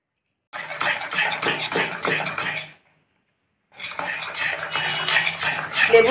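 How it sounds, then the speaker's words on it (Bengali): A spoon stirring lemon juice into a dhokla batter in a bowl, with rapid clattering scrapes in two bursts separated by a short silence, close and fairly loud. "লেবুর রসটা দিয়ে খানিকটা মিশিয়ে নেব এইভাবে।"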